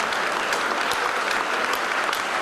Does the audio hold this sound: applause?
yes